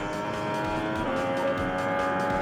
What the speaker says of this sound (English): Up through the gears, almost flat out to turn 5.